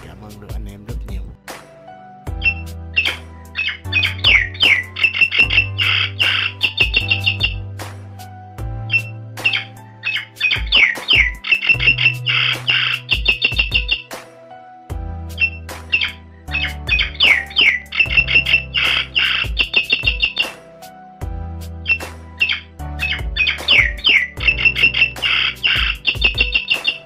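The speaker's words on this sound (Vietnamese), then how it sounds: "đây là file của con sáo đen, hay còn gọi là sáo đen này là sáo đen đồng" Recorded calls of the black myna (sáo đen đồng) used as a bird-trapping lure repeat as loud, close bursts of chirps, whistles and squawks in a steady cycling pattern over about half a minute.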